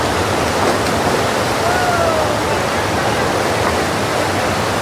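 Water from a village river in a hilly area rushes steadily, a loud, even hiss with no breaks, heard close by and with no voices.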